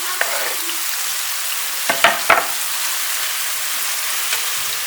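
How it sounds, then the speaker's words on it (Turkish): Mushrooms with a small red pepper and a green pepper sauté in a pan with a loud, steady sizzle. A few sharp utensil clinks and scrapes sound partway through. "Mantarlarla beraber soteliyorum."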